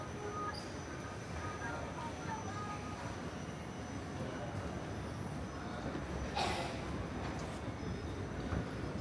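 A KTM train rolls through Kuala Lumpur Sentral station, a continuous low rumble of wheels and carriages with faint squeals and metallic clicks, heard at moderate distance under station ambience.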